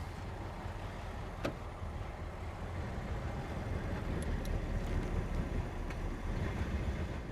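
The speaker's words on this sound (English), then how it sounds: "inside of our 40 Ford, we're going down the road" A 1940 Ford Deluxe sedan rumbles along, heard from inside the cabin, its engine and road noise a steady low drone with a few faint clicks.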